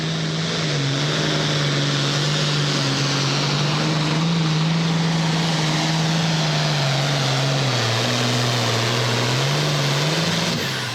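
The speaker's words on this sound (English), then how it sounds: "Maximum Overdrive tractor always out here on the tour." Clay Darnell's Maximum Overdrive pulling tractor roars through a pull at Hillsboro, Wisconsin, a loud, steady engine drone with a strong low tone that dips and rises slightly, sustained and close throughout.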